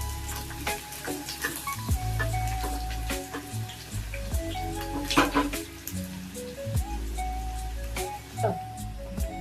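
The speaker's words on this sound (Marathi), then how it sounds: "आता ह्याला चांगलं आपण लाल होईपर्यंत परतून घेऊया" Washed dried jawla shrimp frying with onion in a hot pan until red, producing a continuous crackling sizzle with irregular spatters and stirring scrapes, loud and close throughout.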